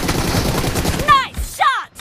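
Rapid gunfire bursts in a competitive team shooter match, loud and close with sharp swept ricochet-like tones, interleaved with an announcer-style voice.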